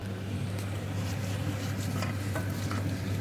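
Food fries in a pan while a spoon stirs it, giving a steady soft sizzle with a low hum beneath and a few faint scrapes, heard close and alone.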